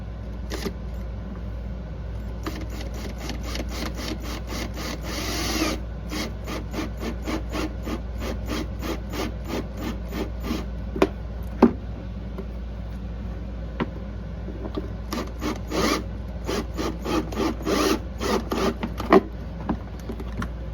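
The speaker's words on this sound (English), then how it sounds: "Let's get drilling." A drill bores into plastic trim on a Ford Maverick for a power socket install, giving a series of short rasping bursts and buzzing pulses. The bursts come in repeated close-up runs with brief pauses between them.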